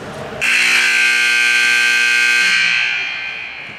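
A loud, sustained electronic scoreboard buzzer blares for about three seconds, harsh and steady, then fades slightly at the end.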